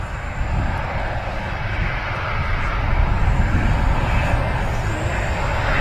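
A fixed-wing airliner's engines hold a steady, heavy rumble close by at Manchester Airport, with a broad roar that swells slightly and stays constant while the aircraft readies for takeoff with its lights on.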